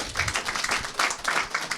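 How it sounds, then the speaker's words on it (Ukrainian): Audience applause for a volunteer named Ihor at a live stand-up improv comedy show, a dense crowd of clapping hands with uneven surges, moderately loud and steady over less than two seconds, no voices on top. "Дайте оплески Ігорю."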